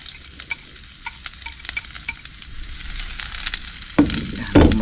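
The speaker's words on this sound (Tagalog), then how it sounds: "Gisahin lang po natin." Ginger, garlic and onion sauté in a hot pan with a steady crackling sizzle and scattered stirring scrapes, growing louder near the end as fresh bursts of frying flare up close by.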